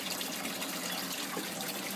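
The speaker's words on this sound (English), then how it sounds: "the flow of water from the overflow does not seem to be matching the flow of water from the grow bed" Water pours steadily from the overflow of an aquaponics grow bed, a soft continuous trickling gush heard fairly quietly and alone, with no voices.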